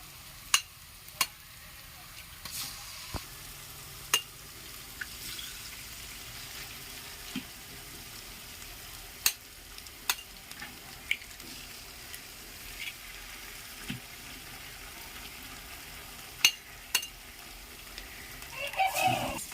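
Five eggs cracked into a hot pan one after another, with a faint, steady low sizzle and scattered sharp taps and clicks across the stretch; no voices.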